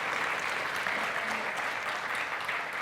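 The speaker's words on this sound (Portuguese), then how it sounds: "Gente, isso merece palmas." Audience applause at a church mission event, a dense, even wash of many people clapping at a steady level throughout.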